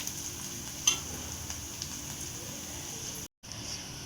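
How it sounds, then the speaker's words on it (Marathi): Chopped onion sautéing in a pan for a mixed sprouts curry, a soft, steady sizzle with faint patter, one brief clink of a spoon, then a short gap before the frying hiss resumes. "कांदा परतला आपला बघा."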